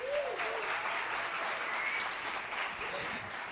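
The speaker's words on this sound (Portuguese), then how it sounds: "Você pode aplaudir a Jesus?" A church congregation at a cell group gathering applauds, a sustained, fairly quiet wash of many hands clapping heard from some distance, with faint voices underneath.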